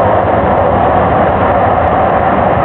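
Inside a moving passenger train near Dallas–Fort Worth, a loud, steady rumble and roar of the carriage fills the space, constant and unbroken, with no voices.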